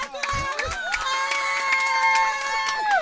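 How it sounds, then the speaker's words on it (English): Camp audience cheers loudly with sustained shouts and whistles, clapping scattered beneath, after a couple of thuds at the start. "And how about a round of applause for Esty Ellis?"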